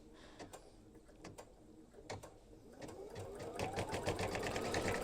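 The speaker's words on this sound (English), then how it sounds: "I'll go ahead and stitch these scrolls and curlicues." An embroidery machine stitching scrolls and curlicues on an in-the-hoop Valentine tealight cover, a rapid mechanical chatter with intermittent clicks that builds into a steady, louder whirr toward the end.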